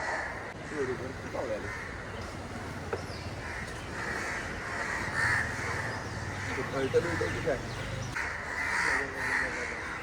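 Several crows caw repeatedly at a middle distance as they chase an eagle, with faint voices talking underneath.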